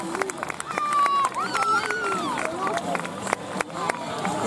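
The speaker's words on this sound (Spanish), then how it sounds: "Un aplauso muy fuerte." Children and adults applaud at a school Peace Day event, a dense crowd noise of clapping mixed with excited young voices and chatter, steady and fairly loud throughout.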